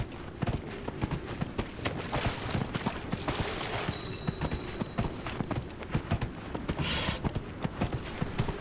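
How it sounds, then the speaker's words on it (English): Rapid, steady clip-clop of a slow horse's hooves in Dragon Age: Inquisition, loud and close, continuing without a break throughout. "This is a very slow horse. I should have brought a faster horse."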